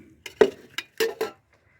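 Cooked rice is layered into a pot for chicken biryani, a metal spoon striking the pot in about five sharp, close clinks at uneven intervals before falling silent.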